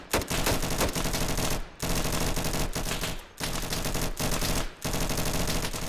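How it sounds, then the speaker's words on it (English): Sustained automatic gunfire in the video game Insurgency, fired down an alley in an urban district map, loud continuous bursts broken by brief pauses between volleys. "I'm just gonna shoot down the alley"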